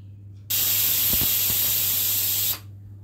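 A pressure cooker whistle releases steam while rice cooks, a loud, steady hissing burst that starts abruptly, holds for about two seconds and cuts off sharply, with a low hum beneath.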